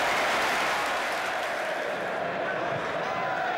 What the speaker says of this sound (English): Applause from the fans too, and why not?